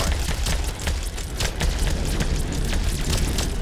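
Meteor explosions in the video game Vampire Hunters make a dense, continuous roar of booming blasts and crackling bursts, loud and unbroken throughout.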